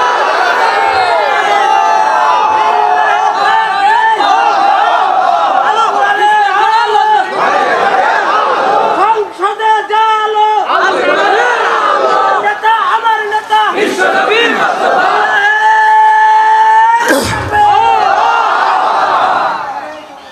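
A large crowd at an Islamic sermon gathering shouts takbir in unison, massed voices rising in sustained loud chanted waves over about twenty seconds, with a preacher's amplified voice leading between the responses.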